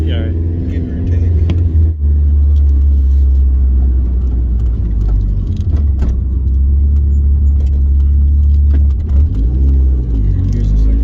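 A 250-horsepower turbocharged Mazda Miata drives on the street, its engine a loud, steady low rumble from inside the car with revs rising and falling, while occupants talk over it.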